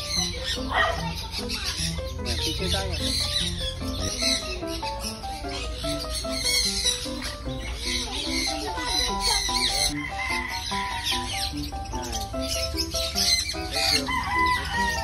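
Birds in a backyard with chicken-like clucking and crowing, plus bursts of wing flapping, steady and fairly loud over busy outdoor background noise.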